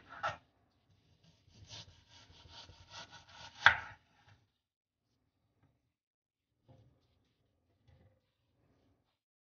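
A knife cuts ham into slices or small pieces on a board, giving a few sharp chops and a stretch of scraping, sawing strokes, followed by near silence with faint, scattered taps.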